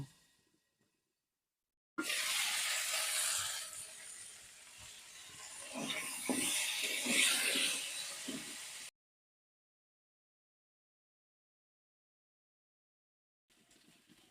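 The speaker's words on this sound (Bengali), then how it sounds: "আলুগুলো ভাজা হয়ে গেছে এবারে আমি তুলে নেবো" Potatoes fry in oil in a wok, giving a loud, dense hiss with crackle that swells and holds for about seven seconds, then cuts to silence.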